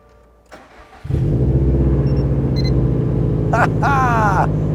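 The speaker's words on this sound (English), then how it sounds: "you should do a cold start" A 2020 Subaru WRX STI engine cranks and fires up from a cold start after a moment of quiet, then settles into a loud, steady idle; a voice speaks briefly over it.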